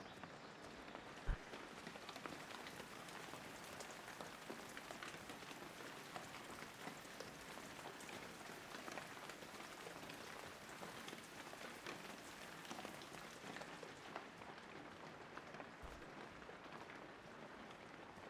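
Steady rain falls in the video game Shenmue 3 as a character searches the ground for herbs, a dense, even hiss that continues for the whole stretch, with no voices over it.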